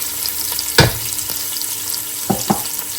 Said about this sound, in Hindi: इसको 2 मिनट के लिए फ्राई करेंगे